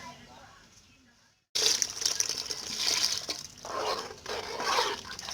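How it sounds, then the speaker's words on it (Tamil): Water is poured into a simmering Karaikudi fish curry with tamarind, a steady splashing gush that starts abruptly after a brief quiet moment and carries on with a fluctuating loud pour. "இப்போ தேவையான அளவு நம்ம தண்ணி ஊற்றிக்கலாம்"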